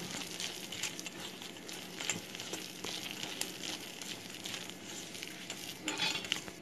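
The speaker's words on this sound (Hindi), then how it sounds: "और अब इन सबको हाथों से अच्छे से मिला लेंगे।" Hands work moong dal batter with salt, red chilli powder, garam masala, onion, green chilli and coriander, producing faint, continuous, close squelching and soft patting with small wet clicks.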